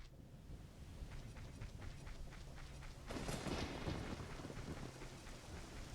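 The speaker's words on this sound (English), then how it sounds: "Oh, it stays raining here until you beat the Shadow Temple." Steady rainfall in Kakariko Village from the Zelda: Ocarina of Time video game, a continuous hiss with soft patter, swelling to a louder rumbling wash midway like distant thunder.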